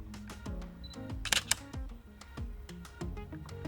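A Canon EOS 77D camera fires its shutter, giving sharp mechanical clicks amid quieter handling taps and whirring, close and fairly faint, with no talking.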